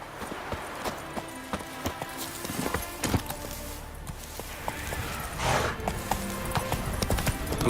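Hooves clip-clop in a quick, steady rhythm on hard ground, with a horse snorting briefly partway through, in the video game The Witcher 3.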